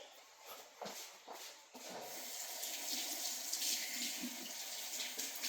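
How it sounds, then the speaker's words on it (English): A part of a Breville espresso machine is rinsed under a running tap, with steady splashing water gurgling into a sink and a few handling knocks at the start. "Just rinse it off a little bit with the water."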